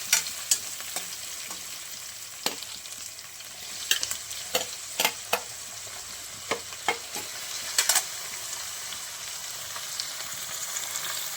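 Chopped capsicum and browned onions sizzle steadily in a hot pan, with sharp clicks and scrapes of a spoon stirring at irregular intervals over the constant frying hiss.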